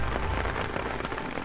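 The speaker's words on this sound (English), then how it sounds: "Just as we took off, it started pouring, heavy with rain." Heavy rain pours down steadily in a dense, loud, unbroken wash of drops hitting surfaces, close and constant throughout, with no voices.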